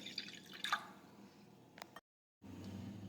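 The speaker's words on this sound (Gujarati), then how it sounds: "હવે આપણે તેમાં થોડું પાણી ઉમેરીશું." Water is added to buttermilk for an okra kadhi, heard as faint, quiet drips and small splashes in short bursts, then a brief silence before soft kitchen background returns.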